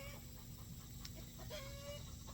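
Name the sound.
hen clucking after laying an egg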